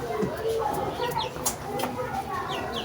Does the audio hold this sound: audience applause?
no